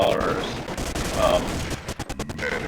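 Dense, continuous automatic fire from a machine gun in Counter-Strike Condition Zero, a sustained rattling burst that breaks into choppier shots near the end, loud and close with no voices.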